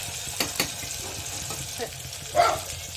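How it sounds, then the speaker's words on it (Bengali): Onion and tomato fry in a pan for mutton jhol, a soft sizzle with a few stirring scrapes and a louder clatter near the end, under faint background voices. "এই পেঁয়াজ টমেটো ভাজছি"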